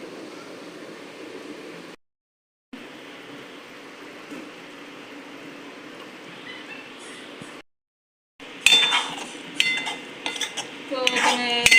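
Dhokli pieces tipped into a pan of Manchurian tempering and stirred: a low frying hiss, then bright scraping and clinking of a spoon against the metal pan, close and irregular, with no talk.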